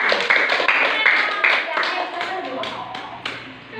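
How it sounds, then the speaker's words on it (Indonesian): A short burst of clapping from a school class, uneven and fading after a few seconds, with a voice speaking over it. "Tepuk tangan untuk semua."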